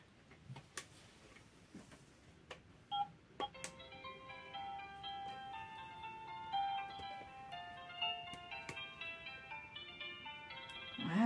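A phone left in another room plays a melodic ringtone tune, faint and muffled, with a few soft ticks and knocks before the melody starts.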